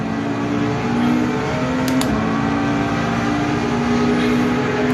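A Porsche RSR race car in Automobilista 2 at Daytona holds a loud, steady engine drone with a sustained high tone, running continuously without pause.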